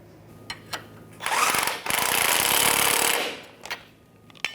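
Power tool snugging up a leveling kit bolt on a 1997-2006 Jeep Wrangler, two loud sustained rattling bursts with a brief gap, framed by a few short clicks and taps.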